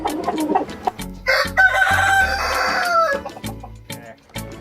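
Chickens at a laying-hen breeding farm, including Isa Brown hens and black Phu Phan roosters, crow and cluck close by. A loud rooster crow rises over busy, overlapping clucking and short calls.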